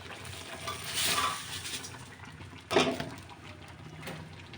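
Raw rice being stirred into hot spiced oil in a pot for ilish pulao: a spoon scrapes and rustles through the grains over a soft sizzle, with a louder scrape near the end and no talking.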